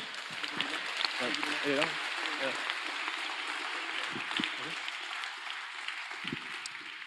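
A crowd applauds steadily in the background at a French-speaking gathering while a presenter's voice talks over it near the mic.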